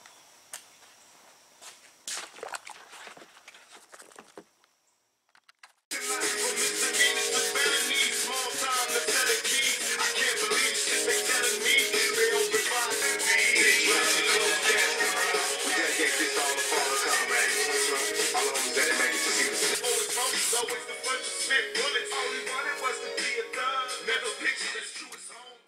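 Car interior plastic parts are block sanded before coloring with SEM dye, a long steady abrasive rubbing that runs loud and continuous for about twenty seconds after a few faint handling noises.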